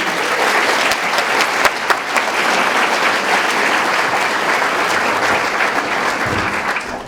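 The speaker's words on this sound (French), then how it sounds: "C'est pour elle ces applaudissements, bien sûr. Alors on va les recommencer une fois pour son cœur immaculé." Audience applause at a religious gathering, a steady dense clapping from a large crowd that holds strong throughout and eases slightly at the very end, with no talk over it.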